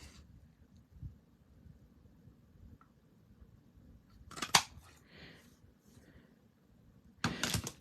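Scissors cut through a piece of cardstock for a handmade card, giving a few short, crisp snips with pauses between them, close and fairly quiet.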